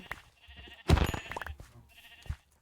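Sheep bleat in the video game Minecraft: a few short bleats, one louder and longer call near the middle, then a quieter bleat toward the end, with no talk.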